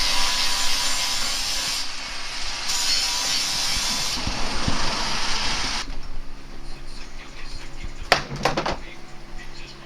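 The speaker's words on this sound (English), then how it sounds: "So I'm just grinding it off with the grinder." A grinder works excess fiberglass off a mold for a vented car bonnet, making a loud, continuous, close abrasive roar. Its tone shifts partway through and it ends with a few sharp knocks.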